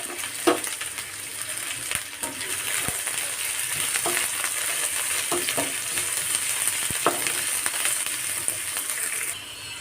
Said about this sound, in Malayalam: വെളിച്ചെണ്ണ ചൂടായിട്ടുണ്ട് ഇനി സവോള കേട്ടോ ഞാൻ ഇട്ട് കൊടുക്കുന്നത്